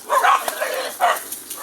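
Several dogs fight, barking and yelping in quick, overlapping bursts, close by and agitated, like a brief scuffle.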